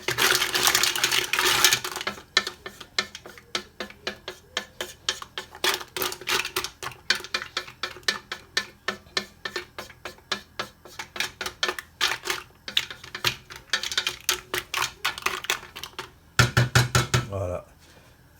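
Mussels with pepper and onions stirred in a pot, a long run of rapid clattering shell-and-metal clicks in an uneven rhythm, close and fairly loud, ending in a short scraping burst.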